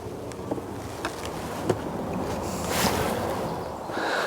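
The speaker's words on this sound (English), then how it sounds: "So the bees really are quite grumpy today." Steady low buzzing of many honey bees around a hive, a dense continuous hum with a few louder passes close by.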